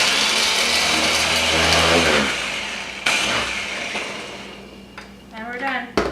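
Garlic cloves being chopped in a food processor, a loud whirring motor that cuts off after a couple of seconds and then pulses again with rattling, followed by clattering as the lid is handled.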